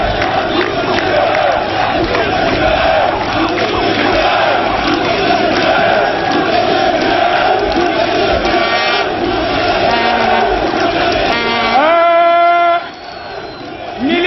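A political rally crowd in Pointe-Noire roars and cheers loudly and continuously, a dense wash of voices and applause with a few shouted calls, before a voice and whistle-like tones cut through near the end.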